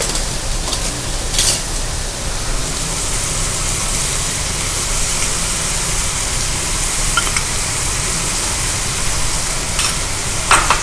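Minced meat sizzles and crackles steadily in a hot pan while being stirred, a continuous close frying hiss with a few sharper scrapes and clicks of the utensil.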